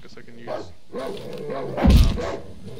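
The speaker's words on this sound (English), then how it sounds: "That's a dog." In the survival horror game Darkwood, a dog gives a few short barks and whimpers, rising to one louder yelp near the end, mixed with game sounds.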